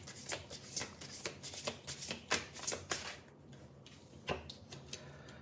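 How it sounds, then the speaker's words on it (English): Cards from a Starseed Oracle deck handled and shuffled up close, a quick run of crisp riffling flicks and taps that pauses briefly near the end, with no voices. "let me take another card from the Starseed Oracle to see what this says"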